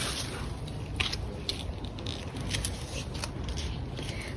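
Helencha greens are plucked by hand in a home garden, with a few soft snapping and tearing sounds over a rustling, noisy outdoor background and no talk.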